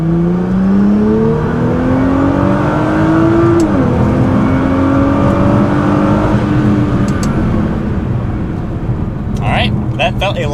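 A tuned Nissan GT-R accelerates hard in save mode on flat ground, its engine note climbing through a couple of gear shifts in a steady close drone, with voices talking over it inside the car.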